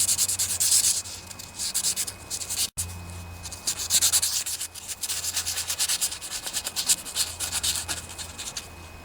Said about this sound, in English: Not real easy to sand a ball bearing